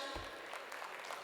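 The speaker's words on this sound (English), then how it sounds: "can we please give a huge round of applause" An audience at a business conference panel session claps to welcome the moderator, a brief, faint patter of applause heard from a distance.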